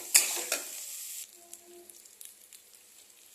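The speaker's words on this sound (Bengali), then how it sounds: "1-2 মিনিট আমি এটাকে ভালো করে কষাবো।" Potatoes and soybean chunks stir-fried with spices in a pan: two sharp spatula scrapes and a sizzle burst up front, then a quieter, steady frying hiss with scattered light clicks.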